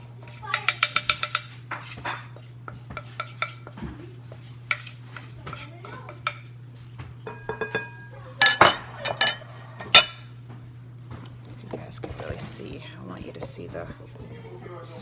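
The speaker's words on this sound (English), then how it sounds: "And just mix it all up. I probably should have put it in a bigger bowl." Cranberry crumble ingredients stirred in a bowl that is slightly too small, with a spoon clinking and scraping against the dish in bursts. Soft talk and whispering run underneath in a quiet kitchen with a low steady hum.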